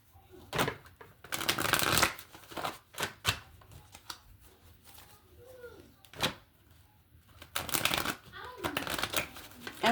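Playing cards are handled, shuffled and drawn from a deck nearby, making bursts of riffling and sharp slaps and flicks between quiet gaps, with a voice speaking in between.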